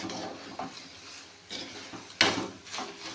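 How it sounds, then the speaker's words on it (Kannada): Chuda fries with peanuts, roasted gram, coconut, green chilli and garlic in a pan, stirred in a few brief scraping strokes over a soft crackle, close and without talk. "ಬೆಳ್ಳುಳ್ಳಿ ಎಲ್ಲ ಹಾಕ್ಕೊಂಡು ಫ್ರೈ ಆಯ್ತು"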